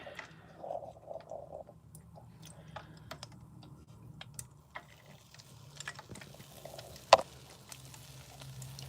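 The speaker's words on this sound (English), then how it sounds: "You can hear it starting to sputter a lot and see the brown speckles at the bottom." Ghee sputtering in a pan as it cooks, with soft, irregular crackles and pops running steadily through the moment and one sharper pop near the end; no talking.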